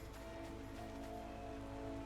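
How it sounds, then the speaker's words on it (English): In the Final Fantasy XIV video game, rain falls in a soft, even hiss and patter with faint droplet ticks, steady throughout and low in level, with no voices. "it really is raining cats and dogs here"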